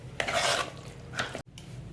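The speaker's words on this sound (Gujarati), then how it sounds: "હવે આપણે લીલા ધાણા નાખી દઈશું। આપણે એને મિક્સ કરી લઈશું।" Chopped coriander being mixed into a pan of roasted eggplant bharta, two short bursts of stirring and scraping against the pot, close and moderately loud.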